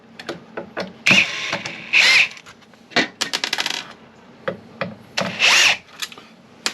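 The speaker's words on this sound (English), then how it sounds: "We're going to remove this by removing the 4 screws." Screws being backed out of a large subwoofer with a power tool: short whirring bursts alternate with metallic clinks and small handling knocks, close and fairly loud.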